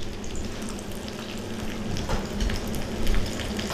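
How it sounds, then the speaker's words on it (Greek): Chicken rolls fry in a pan of hot oil, a steady close sizzle with crackling spits and pops that grows slightly busier toward the end, with no talking. "Όπως βλέπετε και στην οθόνη σας, προσπαθούμε να τηγανιστεί από όλες τις πλευρές."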